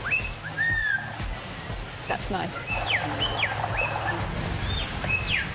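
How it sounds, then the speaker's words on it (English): Birdsong played back during a hearing implant test: bright whistled chirps and short trilling calls repeating over a low steady hum, with a person briefly speaking partway through. "Birds? In we go. We can do birds."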